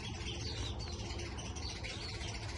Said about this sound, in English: the birds always come back